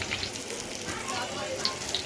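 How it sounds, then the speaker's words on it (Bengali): Potatoes tinted with biryani colour frying in hot oil, a steady, even sizzle holding at moderate loudness throughout with no voices. "আলুটা ভাজা হয়ে গেছে"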